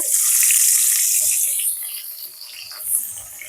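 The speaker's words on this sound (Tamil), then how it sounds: "ரெண்டு பச்சை மிளகாயும் போட்டுக்கொள்றேன் எண்ணெய் கொதிச்சுடுது" Onions and green chillies dropped into hot, bubbling oil, a loud hissing sizzle at the start that gradually settles into a quieter crackle, close by with no talk.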